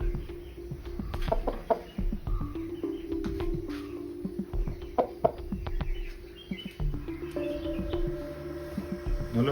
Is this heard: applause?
no